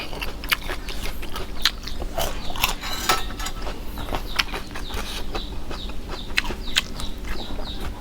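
Crisp, repeated bites and crunching chews of fried dory fish topped with a spicy sauce sound close and sharp, with many small cracks spread evenly over a steady low background.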